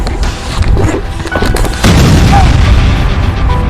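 A bomb blast during a staged militant attack scene, a heavy boom landing near the two-second mark and followed by a loud, sustained rumbling roar, with crackling gunfire-like bursts and faint voices around it.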